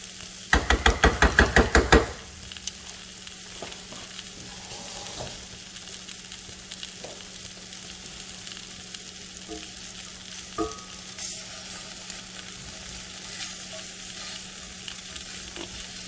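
Shrimp searing in a hot pan produce a quiet, steady sizzle, opened by about two seconds of loud rapid clattering bursts, then a low hiss with occasional soft knocks and no voices.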